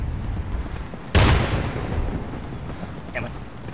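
Frag grenade explosion in Insurgency, a single loud, close blast that erupts suddenly and rumbles off with a decaying tail.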